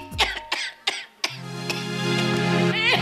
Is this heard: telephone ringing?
no